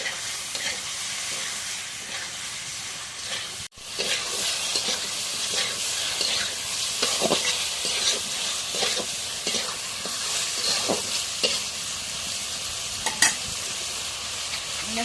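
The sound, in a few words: stirring fish frying in a pan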